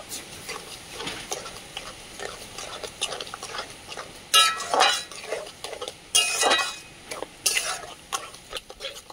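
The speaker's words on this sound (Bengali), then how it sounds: "এরপর ভালো করে চিনিটা মিশিয়ে নেব।" Sugar is stirred into lemon pickle in a pot, with a spoon scraping and clinking against the metal in irregular bursts, several louder scrapes standing out, close and without talk.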